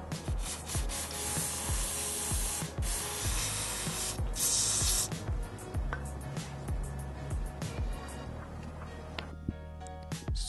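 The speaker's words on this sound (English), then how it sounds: "throttle body cleaner." Throttle body cleaner is sprayed from an aerosol onto the Vanos solenoids of a 2001 BMW 325xi, a loud, close, continuous hiss with rubbing and clattering handling noises throughout.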